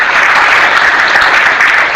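An audience of students at a communication skills workshop in Hyderabad claps together, a loud, dense burst of applause close by that lasts the full two seconds.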